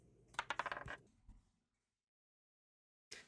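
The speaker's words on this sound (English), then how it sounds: "Let's roll some dice." Dice for a board game clatter in a quick cluster of sharp rattling hits lasting about a second, followed by silence and then another brief burst of rattling.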